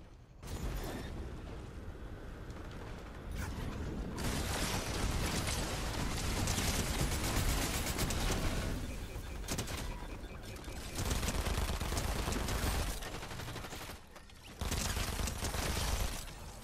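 Dual SMGs rattle off in rapid sustained bursts during a Fortnite match, loud and close, with short gaps between long streams of fire and no talking over them.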